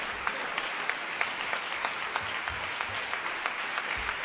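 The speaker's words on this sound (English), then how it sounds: "You can clap while I figure out what I'm going to say next." An audience applauds steadily during a talk, with a dense, even wash of many hands clapping at moderate distance and no voices over it.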